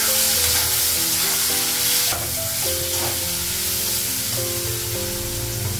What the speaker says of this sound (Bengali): মশলাটা আলু বেগুন একটু ভেজে নেবো